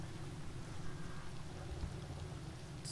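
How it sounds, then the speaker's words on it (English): Steady rain in the video game Final Fantasy XV, a soft continuous hiss of falling water with a low rumbling undertone, constant and even throughout with no voices. "It's nice and raining."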